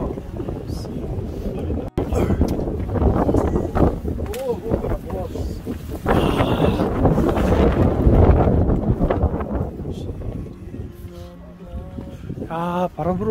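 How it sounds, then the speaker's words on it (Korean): Strong wind gusts buffet the microphone on a rocky mountain ridge of Bukhansan, Korea, roaring steadily throughout with brief dips, while people talk under it. "바람이 불어와서"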